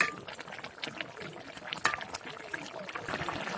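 Hilsa fish and eggplant curry gravy simmers in a pot, giving a soft, steady bubbling with small pops and trickles throughout, fairly quiet and close, with no talk.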